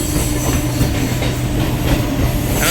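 A passenger train passes in Kolkata with continuous loud rolling rumble and dense clickety-clack of wheels on rails, heard close throughout with no talk.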